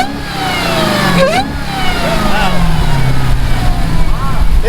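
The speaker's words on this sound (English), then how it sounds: "that's a stock exhaust, so I give the Hellcat Redeye a 10 star" A Dodge Hellcat Redeye engine revs through its stock exhaust. The loud, rising and falling mechanical roar climbs in pitch across repeated revs and runs steadily throughout, with people talking nearby.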